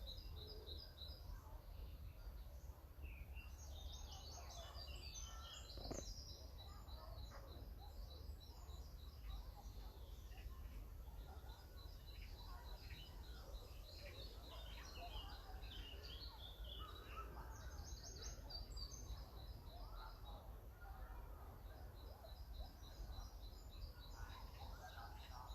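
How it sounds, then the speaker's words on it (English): Birds call outdoors in an urban nature reserve, repeated high chirps and short song phrases at moderate distance over a low steady wind rustle, with faint background noise throughout. "let's see what bird noises we pick up and the sound of the wind through the trees"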